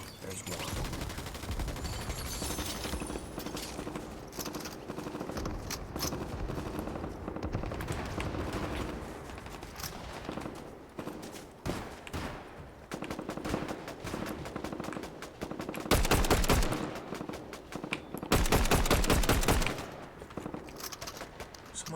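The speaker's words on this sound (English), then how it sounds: "who is shooting at me?" Gunfire rattles almost without a break throughout, dense bursts that sound like automatic weapons, with a few louder, closer volleys near the end.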